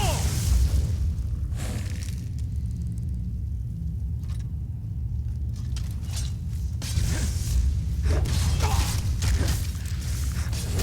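Fire Breath dragon shout in Skyrim: a deep roaring rumble with bursts of rushing fiery whooshes that swell and fade, near and fairly loud over game ambience.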